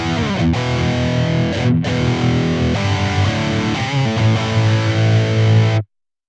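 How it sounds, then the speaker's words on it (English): Distorted electric guitar through a BOSS ME-90 modelling the modern mode of channel 2 on a Mesa Boogie Dual Rectifier, into a closed-back 2x12 cabinet, plays loud sustained chords and riffs for about six seconds before stopping abruptly. "Modelling the sound of channel 2 on the modern mode on the Mezza Boogie dual rectifier"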